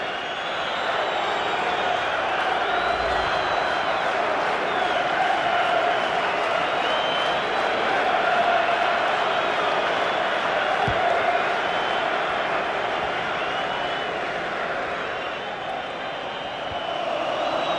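Stadium crowd in a FIFA 15 Premier League match, Liverpool against Newcastle, roaring steadily and loudly throughout as they react to a near miss on goal, with a dense, sustained swell of voices and no commentary over it.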